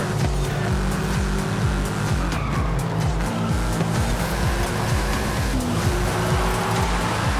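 Toyota 86 drifting in Forza Horizon 5, its tires squealing over a loud, continuous engine roar that holds steady for several seconds with no talk.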